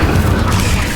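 The Incendio fire spell is cast in Hogwarts Legacy as a loud, close, deep booming burst of flame lasting about a second, rough and roaring with no voices.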